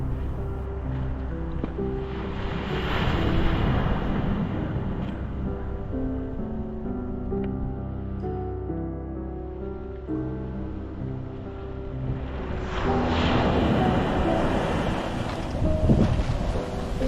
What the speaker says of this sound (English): as I came around towards the ocean, I heard a distant roar of waves cutting into the bay